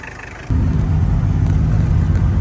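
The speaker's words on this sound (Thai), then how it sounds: "เอาละพามาชมการขับขี่ รถกระบะมิซูมิชิ L 2 0 0 Aero Body ไซโคน" Mitsubishi L200 Aero Body Cyclone pickup with a factory turbo engine, driven on the road: the low engine rumble swells suddenly after a quiet moment and holds steady and loud, with no talk.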